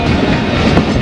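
Karakoram Express passenger train running along the Lahore–Khanewal main line, a steady loud rumble of wheels on rails with faint clickety-clack, no voices.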